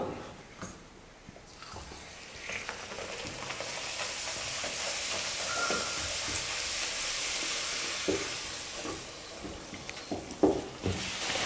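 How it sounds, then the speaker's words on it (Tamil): Puri dough frying in hot oil, a steady, close bubbling sizzle that swells as the puri puffs and carries on alone with faint stirring clinks. "இதே போல் மீதி இருக்கிற எல்லா மாவையும் நம்ம தேய்ச்சி எண்ணெயில் போட்டு பூரி செஞ்சு எடுத்துக்கலாம்"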